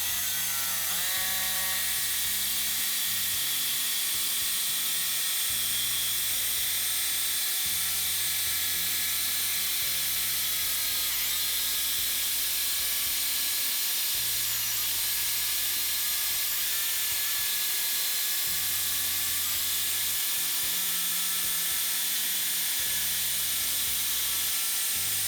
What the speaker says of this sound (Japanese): ジグソーで直線を切る場合、この安いジグソー、格安の低価格のジグソーは直線が苦手です